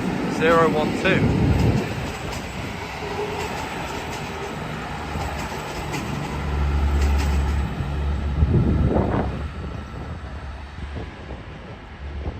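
A train passes at York on the East Coast Main Line, a low rumbling roar swelling in the middle and fading out, with wind buffeting the microphone and brief voices near the start.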